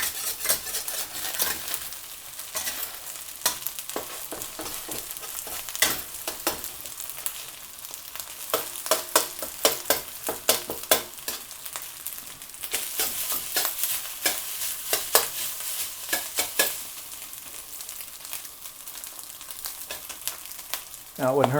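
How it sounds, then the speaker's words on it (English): Eggs fry and are stirred in a not fully seasoned pan while being browned for egg fried rice, a steady close sizzle broken by frequent scraping and clinking strokes of the utensil. "So to let the eggs cook, get them to brown a bit."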